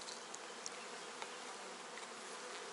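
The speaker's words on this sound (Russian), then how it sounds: "Вот, пчелки уже." Honey bees buzz in an opened beehive of a colony with laying workers, a soft, steady, even hum that carries on without a break, with no talk.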